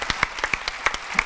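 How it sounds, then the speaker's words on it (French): Sparse hand clapping from an audience at a developer conference, Devoxx France, with a handful of separate claps in an uneven rhythm over a second or so, fairly close and thin. "Vous pouvez les applaudir"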